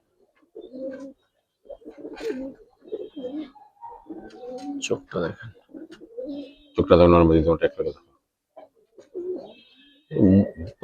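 Pigeons coo in low, throaty bursts close by, interspersed with someone speaking in short phrases; a louder rolling coo stands out midway.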